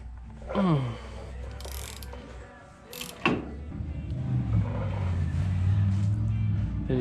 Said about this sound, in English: gonna loosen up this nut now